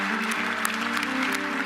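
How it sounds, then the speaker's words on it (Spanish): Applause erupting in an assembly hall after the numbers of an arms treaty vote appear on the board, dense sustained clapping from a large crowd filling the room. "la sala de la Asamblea irrumpió en aplausos y exclamaciones de alegría"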